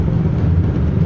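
A car with a loud aftermarket open exhaust revs close by during a Melasti temple procession at Desa Adat Jadi, Kediri. It is a brief, steady, heavy low rumble with no voices.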